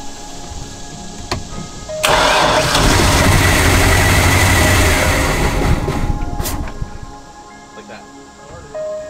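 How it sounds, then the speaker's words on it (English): Carbureted Malibu boat engine surging from idle into a loud, sustained roar that fades back down, with a couple of sharp pops near the end, and people talking faintly over it. "Well, this one likes to backfire too"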